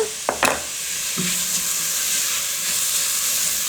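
Onions sweat in a pan before garlic goes in, giving a steady soft sizzle with a few brief clinks and scrapes of a utensil at the start, heard up close without talk.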